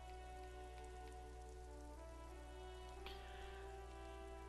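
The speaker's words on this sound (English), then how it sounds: "what brings you up here in the rain?" Rain from the video game Disco Elysium falls continuously as a soft, even patter with a low steady ambient drone beneath it, quiet and uninterrupted from start to end.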